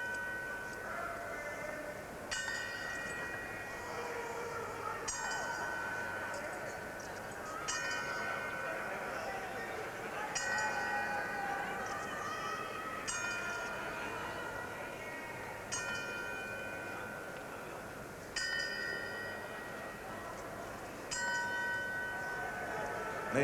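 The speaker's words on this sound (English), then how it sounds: "they're tolling the 10-second bell" A ringside boxing bell tolled ten times as a tribute at a Tyson–Biggs fight, evenly spaced clangs each ringing out over a constant crowd murmur in a large arena.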